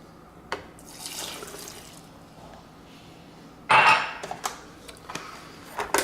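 Bourbon for an orange bourbon milkshake, four shots, pours with a soft trickle, then a louder splash of liquid into the blender jar, followed by faint clinks and drips.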